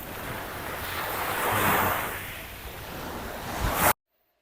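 Ocean waves wash ashore at Puka Beach, a broad, steady roar of surf that swells in the middle and again near the end before cutting off abruptly, with some wind buffeting the microphone.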